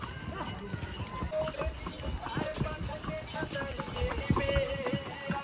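Rhythmic clip-clop of horse hooves striking hard ground, steady and close, with a busy background of other noise and possible voices.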